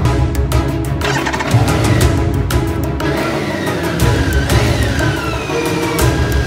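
A BMW K 1600 GT motorcycle engine rumbles and revs near the listener, its pitch rising and falling through several throttle changes.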